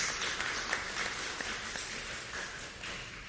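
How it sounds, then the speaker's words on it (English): A round of applause for the Ambassador of Japan from a panel audience, steady and fairly quiet, with claps blending into a continuous patter. "give a round of applause to the Ambassador of Japan"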